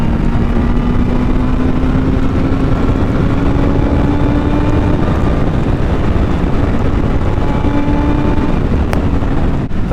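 A BMW S1000R motorcycle engine running with bad vibration, a loud, steady, close drone with faint tonal hum, heavily masked by constant wind rush and no break for the whole stretch.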